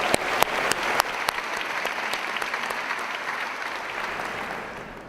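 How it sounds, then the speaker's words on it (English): Faculty gathering on an opening day giving another round of applause, close crowd clapping with a few sharp individual claps standing out early, fading gradually toward the end. "How about another round of applause?"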